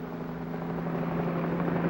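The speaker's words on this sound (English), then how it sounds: "Whirling over the city, a police helicopter reports traffic movement to the operations center." A police helicopter flies over a city, its steady low rotor and engine drone holding constant and loud throughout with no voices.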